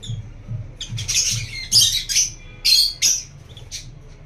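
Lovebirds squabbling up close: harsh, piercing squawks come in short clustered bursts over a steady low chatter, loud and agitated.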